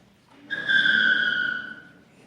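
A spinning car wheel is lowered onto the ground and squeals in a single skid lasting about a second, a bright tonal screech that rises in, holds steady and then fades out.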